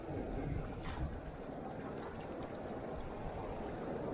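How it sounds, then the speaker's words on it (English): Surf of 3–4 foot waves breaks on a beach as the tide goes out, a continuous, fairly distant rushing wash of water without clear separate crashes. "Tide's going out, but it's still kind of hitting kind of hard here. Waves are 3-4 foot out there"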